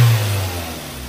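A 2003 Toyota IST 1500cc car engine revs briefly and settles, a steady loud mid-low rumble with strong low hum, recorded close with no talking.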